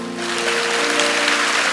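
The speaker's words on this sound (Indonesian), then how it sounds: "kasih tepuk tangan untuk Tuhan." A church congregation claps during a sermon, a thick burst of applause that rises within a moment and stays loud, with a sustained tonal hum from music or organ running beneath it.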